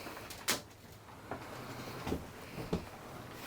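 Closet doors in a new full-time RV are opened and closed, making a few sharp, separate clacks and thumps against a quiet room with no talking.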